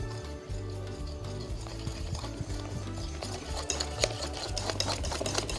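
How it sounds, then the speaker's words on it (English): A spoon stirs plant-based snack batter in a bowl to work out the lumps, making a quick, rhythmic scraping and knocking that repeats close by, with no talking. "Stirring this all through."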